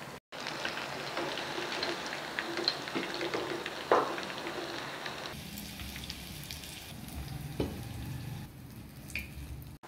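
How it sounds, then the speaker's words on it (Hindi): Chicken pieces frying in oil in a small kadhai, a steady close crackling sizzle with a few louder pops and spatters. "क्योंकि कढ़ाई छोटी है इसलिए मैंने 2 हिस्सों में इसको फ्राई किया है।"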